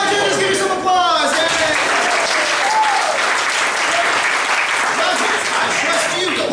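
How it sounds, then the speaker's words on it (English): Comedy Sportz audience bursting into applause, a loud, dense and steady clapping from a crowd that fills the whole stretch, with a few voices calling out early on. "Give me some applause."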